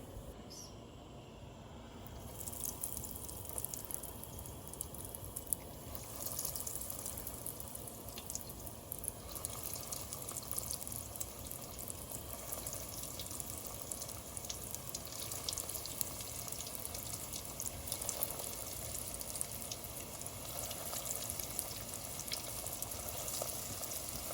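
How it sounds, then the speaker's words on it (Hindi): Aloo and cheese balls fry in hot oil with a steady, dense sizzle and bubbling. It runs unbroken for the whole stretch at moderate loudness, with no voices over it. "तो मैंने इसलिए इसको फ्राई कर रही हूँ, इसमें डाल दिया है।"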